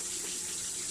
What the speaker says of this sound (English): then there's this little fountain